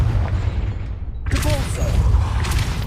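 Confringo blasting spell exploding in Hogwarts Legacy: after a quiet low rumble, a sudden heavy boom bursts in midway, followed by crackling debris and a lingering rumbling tail, with a brief voiced cast sound layered in.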